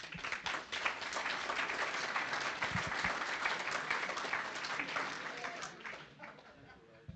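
An audience at the CCCBR annual general meeting applauds steadily, a dense wash of clapping that holds for several seconds and then tapers off.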